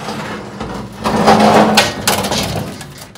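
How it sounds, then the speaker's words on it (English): A crescent wrench is struck to knock out the hinge pins on a vintage car door, giving a few close, heavy metallic knocks and a scraping rub amid workshop noise. "I found that a crescent wrench, working it under there and hitting it as I moved it back"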